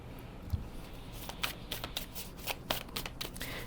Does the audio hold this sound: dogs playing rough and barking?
no